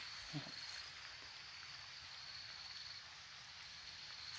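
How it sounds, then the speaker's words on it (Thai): Rain falls steadily over a durian orchard in Bueng Kan, a soft even hiss of drops on leaves and ground, heard from a distance with no one talking. "ฝนตกนะครับ"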